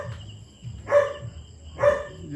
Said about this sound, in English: you hear my Belgian Malinois barking